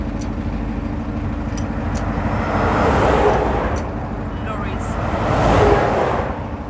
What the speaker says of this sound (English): The lorry's flying past